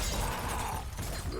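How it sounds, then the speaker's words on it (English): Glass shattering in Left 4 Dead 2 during a competitive Dead Center match, a loud, dense crash of breaking panes lasting over a second amid busy game noise. "Gotta break that glass."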